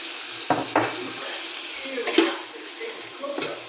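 Shrimp sautéing in a pan for a home-cooked Filipino dish, a soft steady sizzle broken by a few clacks and scrapes of a utensil against the pan, with occasional quiet talk.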